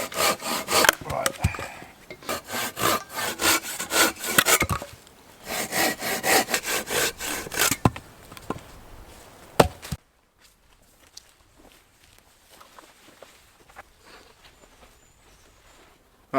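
A Silky Big Boy folding saw cuts firewood in a wet woodland camp with quick, rhythmic rasping strokes for about ten seconds, then stops and leaves faint outdoor quiet.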